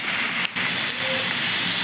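Steady rain falls in the survival video game 99 Nights in the Forest, a loud, dense hiss of drops on surfaces that continues without pause, with no talking.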